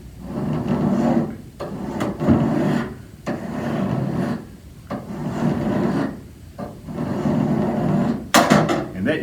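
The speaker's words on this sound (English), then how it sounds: "We can use a file like this. We want to follow the bevel on the pruner." A hand file is drawn along the bevel of a pruner's cutting edge, giving repeated close, loud rasping strokes about one per second with short pauses between, alone and without talk.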